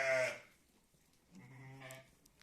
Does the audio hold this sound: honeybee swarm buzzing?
no